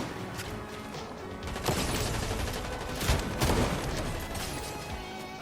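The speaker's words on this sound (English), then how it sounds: "where's those shots coming from?" Rapid bursts of gunfire in a video game, dense and continuous with sharper reports standing out around the middle, filling the whole stretch without any talk.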